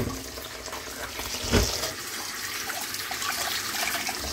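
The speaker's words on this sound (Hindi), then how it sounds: "इनके ऊपर थोड़ा सा ठंडा पानी डालना होता है" Cold water poured from a tap over cooked vermicelli in a home kitchen, a steady close splashing stream with a brief louder gush midway.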